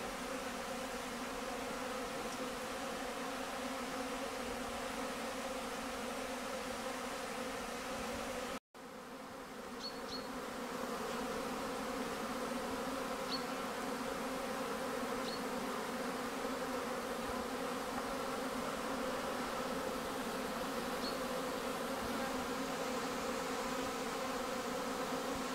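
Honey bees on a February cleansing flight around a sunlit hive, a steady dense buzz of many insects close to the entrance, with a brief dropout partway through.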